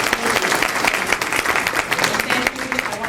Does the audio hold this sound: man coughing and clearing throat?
no